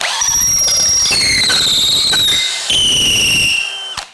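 DeWALT DCD999N cordless brushless hammer drill running in gear 2, a loud, close, high-pitched motor whine that holds steady for about four seconds with brief dips and a shift in pitch, then cuts off.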